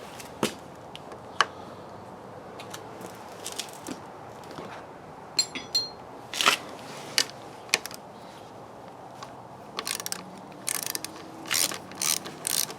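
A ratchet with a 10mm socket works on a motorcycle lever mount on a Yamaha FZ09, giving sparse dry clicks and short ratcheting bursts, closer and quicker near the end.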